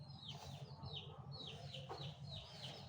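Farm chickens sheltering under cover from the summer heat cluck in repeated short calls, several birds overlapping at moderate distance over a low steady background hum.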